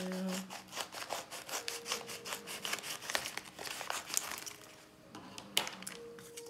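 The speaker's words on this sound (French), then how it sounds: "Je vais ouvrir avec des ciseaux pour éviter de faire du bruit." Crinkly rubbing and snipping of a package being cut open with scissors up close, steady irregular scraping with a few sharper cuts, no talking.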